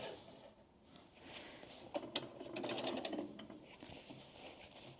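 Sewing machine stitches fabric for a small car tissue holder in a quiet room, a faint mechanical whir with light ticking that rises in the middle and then eases off.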